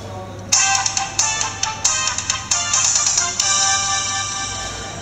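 A KDI I939 dual SIM touchscreen phone switches on and plays its startup tone, a bright, close melodic jingle of quick repeated notes followed by a sustained ringing chord.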